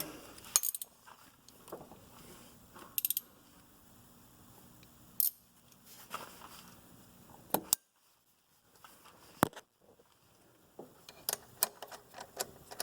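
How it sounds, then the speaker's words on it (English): Wrenches clink against bolts on a VW Mk4 TDI ALH engine during serpentine belt and pulley work: sparse, sharp metallic clicks and taps with quiet gaps between them, close by. "So now we'll put the wrenches on."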